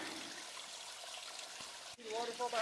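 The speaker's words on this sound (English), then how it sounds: "See the waterfall behind me?" A large vertical waterfall on a creek trail, heard as a continuous moderate rush of falling water throughout, with a short break near the end and a voice talking over the last half second.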